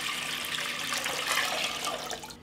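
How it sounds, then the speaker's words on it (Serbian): A litre of water pours into a cooking pot for a brine, making a steady, close splashing rush that runs unbroken for a couple of seconds with no voices. "U jednu šerpu sipat ću litar vode."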